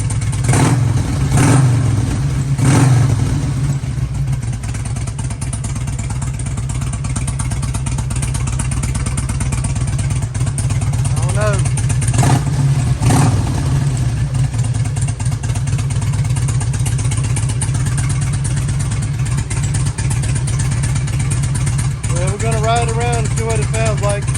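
A 2003 Harley-Davidson Electra Glide fitted with a Fullsac true dual exhaust rumbles low and continuous throughout, loud and close, with occasional revs and voices heard over it.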